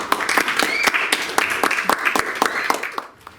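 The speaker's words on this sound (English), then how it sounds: "A great applause for Jimena Luisek-Jover, representing second B class." Applause in a school hall greets the last contestant of a secondary-school public speaking contest, a second B class student: steady, lively clapping from the audience with some sharp individual claps, tapering off at the end.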